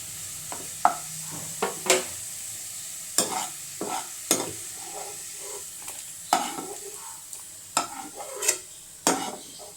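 A beef pickle mixture sizzles in a hot pan while a spoon scrapes and stirs it in repeated sharp strokes, steady frying hiss underneath, no talking.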